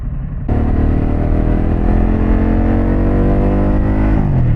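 A Harley-Davidson Pan America motorcycle with a Vance Hines exhaust pulls away, its loud, steady engine drone rising gradually through the gears as it rides close by.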